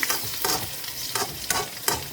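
Garlic and mustard seeds fry in hot oil in a home kitchen, giving steady close sizzling broken by several sharp bursts of crackle and stirring scrapes.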